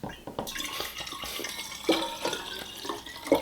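A drink being poured into a glass at a table, a steady liquid splash and trickle running continuously for a few seconds, close and moderately loud with no talk over it.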